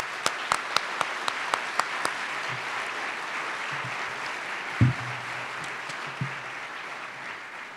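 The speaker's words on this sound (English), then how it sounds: "Please join me in thanking our elected officials with a round of applause" Audience at a Martin Luther King Jr. celebration gives a round of applause for elected officials, a sustained crowd of clapping with several sharp, loud individual claps near the start and a few thumps later.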